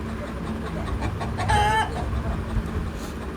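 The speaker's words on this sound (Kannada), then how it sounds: "ಇದು ತುಂಬ ಜೋರುಂಟು ಆ ಬಿಳಿ ಹುಂಜ" Hens and a white rooster cluck on a small egg-laying poultry farm of a few dozen birds, with one louder, drawn-out call rising midway over a steady, busy farmyard background.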